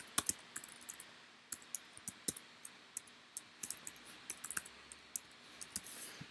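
Typing on a computer keyboard: sparse, irregular key clicks, sometimes in quick runs, close and fairly quiet against a faint background hum, with no talking.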